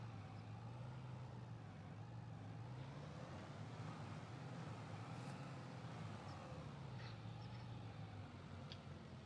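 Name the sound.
truck engine straining in Farming Simulator 25 video game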